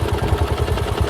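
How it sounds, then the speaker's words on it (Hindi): A CNG motorcycle engine running unevenly at idle, a loud close rhythmic low chugging pulse with mechanical clatter. "ऐसा लग रहा है कि इंजन स्टार्ट है,"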